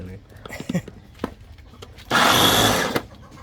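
A kitchen blender whirs loudly in a single burst of just under a second, preceded by voices talking nearby and brief handling noises.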